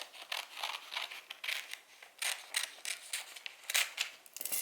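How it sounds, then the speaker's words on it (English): Scissors cut through wrapping paper for a gift package, close and quiet, with a steady series of crisp snips and paper rustles. "I'm going to use this as an extra layer of paper just by taking my scissors"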